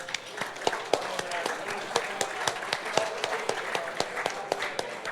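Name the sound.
banquet audience applause for golf winners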